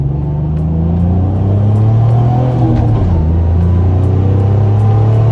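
Nissan 350Z engine and intake roaring loudly under hard acceleration, heard from inside the car, a deep continuous rumble with a steady, slowly rising tone.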